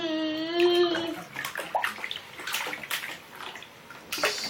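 A baby splashes water in a home bathtub, with a short vocal squeal at the start followed by irregular sloshes and splashes that rise and fall close by.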